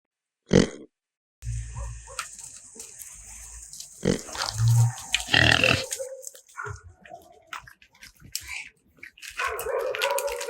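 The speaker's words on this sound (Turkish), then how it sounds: "Doğal yaşam alanlarını tahrip ettiğimiz domuzlar bugün mahallelerimizin kıyısında yaşamaya başladılar." Wild pigs grunting at a forest edge beside a neighbourhood, near feeding and water stations, with a few close, rough grunts and snorts mixed among rustling and other animal noises.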